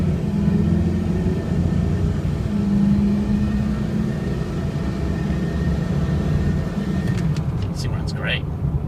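A 2005 Ford F250 4x4 diesel truck engine revs as a steady, loud, deep rumbling drone, close by and held throughout, with a brief clatter near the end.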